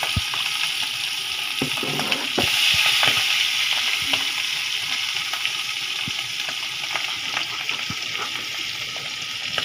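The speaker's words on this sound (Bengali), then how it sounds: "ডিমগুলো মাখানোর পরে তেলে দিয়ে দিচ্ছে, এগুলোকে হালকাভাবে ভাজার জন্য" Beaten eggs frying in oil in a pan at home, a loud, hissing sizzle close by with bursts of spattering pops and light scraping throughout.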